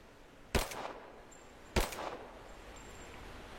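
Two sharp, loud gunshots about a second apart ring out in a video game as gold incense burners are shot down, each blast trailing a brief echoing tail over a low steady background.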